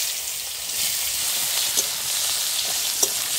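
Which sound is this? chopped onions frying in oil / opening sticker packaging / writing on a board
chopped onions frying in oil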